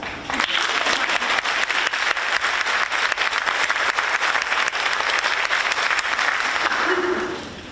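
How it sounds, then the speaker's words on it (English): Steady, dense applause from a high school graduation audience congratulating award students, loud and sustained for several seconds before tapering off at the end. "Please clap."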